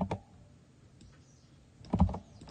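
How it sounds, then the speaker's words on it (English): Short bursts of typing on a computer keyboard, a quick cluster of clicks at the start and another near the end, close and fairly quiet with a hushed room between. "what I'm going to do is just type this into Google"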